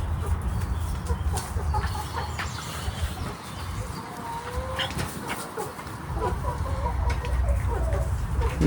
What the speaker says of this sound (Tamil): இது வந்து ஃப்ரான்ஸ் நாட்டு வகை கோழின்னு நினைக்கிறேன்.